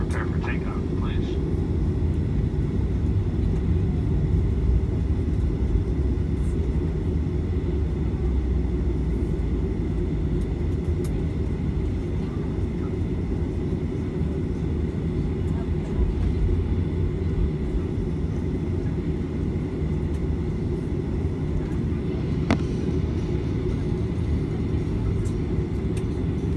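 An airliner taxis at Miami airport ahead of takeoff, its engines giving a steady, loud low rumble throughout with no pauses, heard from inside the cabin.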